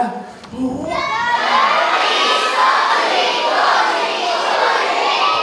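A large pantomime audience, many of them children, shouts together loudly and keeps up a sustained roar after a brief voice at the start.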